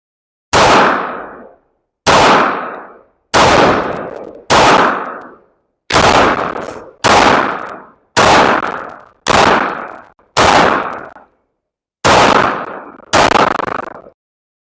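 Single gunshots from an MC9 Prime firearm at an outdoor range, eleven loud, sharp reports spaced about a second apart with brief pauses, each decaying quickly.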